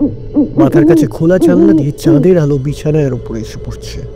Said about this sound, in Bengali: মাঝরাতে প্যাঁচার বিদঘুটে ডাকে ঘুম ভেঙে গেল